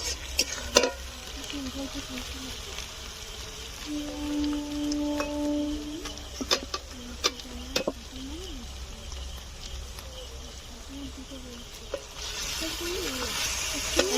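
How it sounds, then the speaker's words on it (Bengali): Garlic and onion frying in mustard oil in a pan at a night home picnic, with meat about to go in; a steady low sizzle runs throughout alongside occasional stirring clatter and faint background voices, with a brief tonal hum near the middle. "বন্ধুরা রসুন আর পেঁয়াজ ভাজা হয়ে গিয়েছে আর মাংসটা দিয়ে দেবো"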